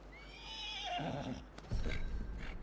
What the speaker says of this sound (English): All right, now calming the horse.